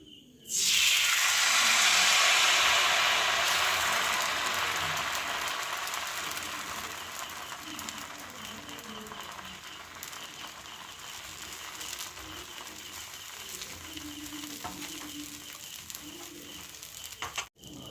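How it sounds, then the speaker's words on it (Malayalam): Masala dosa batter hitting a hot oiled tava bursts into a loud sizzle that fades slowly into a steady, softer hiss that continues on its own until it cuts off. "ദോശ തവ എടുത്ത് വെച്ചിട്ടുണ്ട് ചൂടാക്കി അതിൽ നമ്മൾ ഓയിൽ അപ്ലൈ ചെയ്തിട്ടുണ്ട് ഇനി നമ്മുടെ മാവ് ഒഴിച്ച് കൊടുക്കാം"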